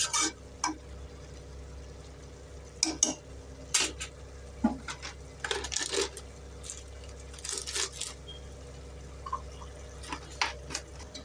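Broad beans and prawn thokku being stir-fried in a pan, with intermittent metallic scrapes and clinks of a spoon against the pan over a steady low background hum.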